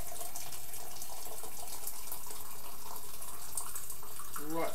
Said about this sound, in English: So I've got a kettle of water boiled. I'm going to fill the can up with that.